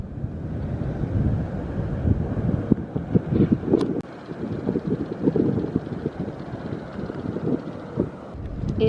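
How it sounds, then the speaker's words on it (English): Wind gusts buffet the microphone on the coast at Cape Disappointment, a rumbling, fluctuating roar with low-pitched thumps that rises and falls across the whole stretch, close and loud. "It was definitely the wind I was hearing"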